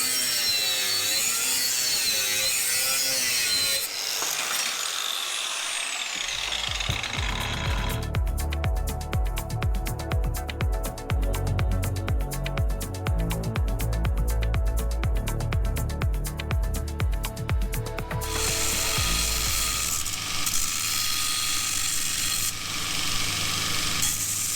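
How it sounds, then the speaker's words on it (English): A cut-off wheel slices through a reclaimed steel equal-angle bracket, then a sander dresses and shapes the steel, giving a loud, continuous grinding roar with a sustained rasping stretch in the middle and no talk. "I'll trim off one side of this equal angle with a cut-off wheel and dress it up on the sander."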